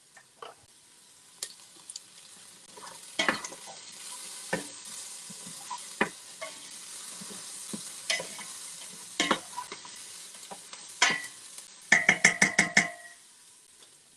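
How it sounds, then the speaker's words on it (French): Caramelizing onions and mushrooms get stirred in a pan: scattered scrapes and clinks of a utensil over a soft sizzle, ending in a quick series of sharp metallic taps, with no talking. "D'ailleurs, je vais peut-être mélanger un peu."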